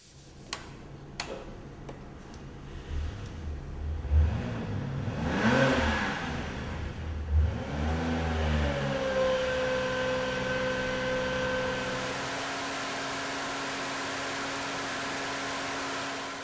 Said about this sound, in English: Every motor that we build comes to our dyno room and is being tested in the dynamometer